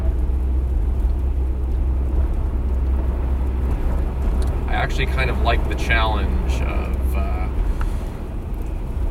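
A rear-wheel-drive pickup truck in a winter ice storm, with a steady low drone of engine and road noise and a constant hiss of tyres and sleet, while someone talks over it.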